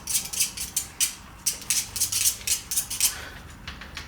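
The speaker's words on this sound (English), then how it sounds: "let's spike more holes onto the pork belly skin" A metal fork repeatedly stabs into pork belly skin, giving a quick steady series of sharp little clicks and taps, about three per second, close and distinct with no talking.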